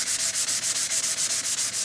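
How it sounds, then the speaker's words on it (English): Sandpaper is rubbed back and forth over a wooden 581 rifle stock in quick, even strokes, a close, rhythmic scratchy rasp with no talking. "Here I've been sanding on this 581 stock."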